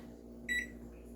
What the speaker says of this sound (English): New microwave. I'm not used to using it.